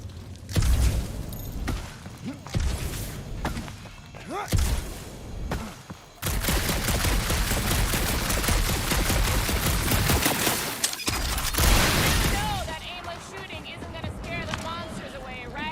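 Bursts of rapid gunfire and whooshing action effects in the Guardians of the Galaxy video game, loud and sustained in the middle stretch, with voices talking over parts of the fighting.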